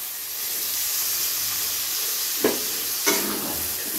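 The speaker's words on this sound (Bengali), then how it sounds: "ঠিক এই পর্যায়ে দিয়ে দিতে হবে আমাদের টমেটো কুচি।" Chopped tomato drops into frying onion masala that is releasing its oil, for Chicken Darbari, a steady close sizzle broken by two sharp splashy bursts as the pieces land and are stirred, with no talking.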